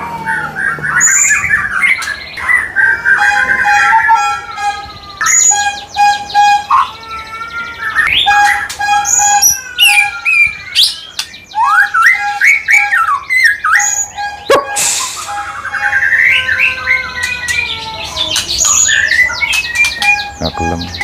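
A magpie-robin (murai hutan) songbird sings loudly and continuously up close, with varied whistles, trills and chirps filling the whole stretch.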